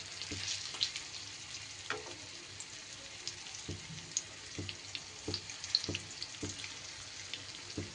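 Four coated fish pieces fry in a pan with a soft, continuous sizzle, punctuated by light, irregular clinks and scrapes as the pieces are nudged aside; fairly quiet and close.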